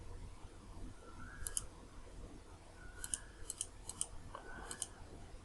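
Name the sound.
computer mouse clicking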